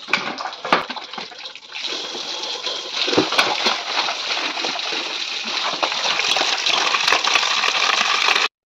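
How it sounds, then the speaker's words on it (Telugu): Raw chicken is washed with water for a village biryani, with continuous splashing and sloshing, hands stirring pieces in a vessel and metallic clinks, close and fairly loud throughout. "ఇప్పుడైతే నీట్గా వాష్ చేసుకుందామండి చికెన్ అనేది."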